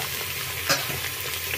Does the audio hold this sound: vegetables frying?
yes